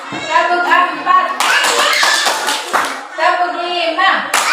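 A classroom clapping game: a group of children claps together in a short rhythmic burst after an adult voice calls out the count, and talking resumes right after the claps.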